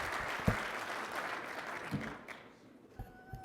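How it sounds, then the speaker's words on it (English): A room of club members claps for volunteers, a thin, uneven patter of applause with a few louder claps that fades toward the end. "Thank you very much to our volunteers. Give them a round of applause."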